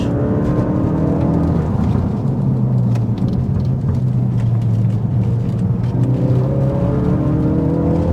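Ford Focus RS engine on the road during heel-and-toe shifting, a steady loud rumbling drone that dips and rises in pitch around gear changes, heard from inside the car with no talking.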